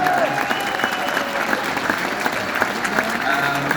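Steady audience applause and cheering for the musicians at a live concert, a dense continuous crowd clapping from start to end.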